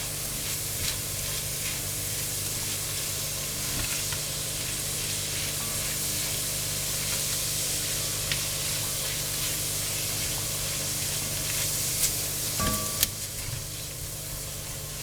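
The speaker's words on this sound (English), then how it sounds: "Those are some cremini mushrooms. I just think mushrooms and beef are a match made in heaven." Cremini mushrooms sizzling in a pan after beef shanks were seared, a steady broad hiss running close and even throughout, with a few faint clicks and one sharp knock near the end.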